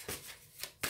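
Tarot cards being shuffled by hand, three soft riffling bursts spaced through a quiet moment, close and fairly faint with no talking.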